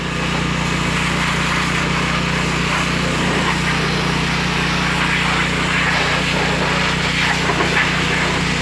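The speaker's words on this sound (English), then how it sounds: "Nothing runs better than a John Deere" A John Deere tractor engine runs steadily and loudly throughout, a continuous low drone with a constant hum and no breaks.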